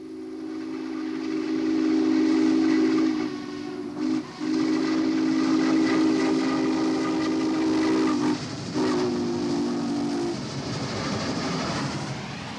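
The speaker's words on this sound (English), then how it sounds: "This was the first double-headed steam train on Blue Ridge for 28 years." A double-headed steam train on the Blue Ridge line sounds a long, loud steam whistle in several sustained blasts with brief breaks, over hissing steam and rail rumble, with no voices.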